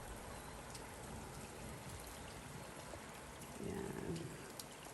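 Steady rain patters outdoors on a cold, snowy Japanese mountainside, a continuous soft hiss with a slightly louder stretch near the end, no voices.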